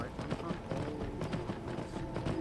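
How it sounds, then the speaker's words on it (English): A riderless horse gallops through Skyrim VR, its hooves striking in a quick, uneven clatter at moderate distance, partly under a speaking voice. "horse came through, riderless, with a horseman running behind it."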